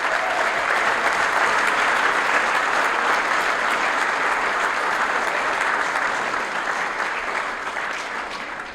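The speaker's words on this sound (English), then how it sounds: "I would just like one more round of applause for our 2023 Scholar Athletes." Sustained audience applause at a scholar-athlete awards dinner, a steady dense wash of many hands clapping together that holds strong for about eight seconds before starting to taper.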